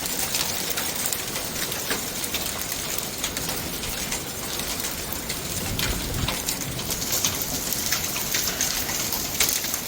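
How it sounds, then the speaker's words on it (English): Hail falls outdoors near a parked vehicle as a dense, continuous patter of sharp ticks and taps over a steady wash of noise. It stays fairly loud and even throughout, with no speech. "Thankfully the hail's blowing from the other side, from where it's parked."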